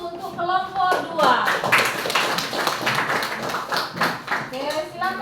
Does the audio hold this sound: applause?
yes